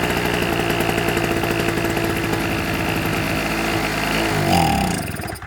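Old Honda or SIP petrol generator engine running indoors after starting, a loud close steady chugging rumble with strong regular pulses, then a rising rev and sudden cut-off near the end.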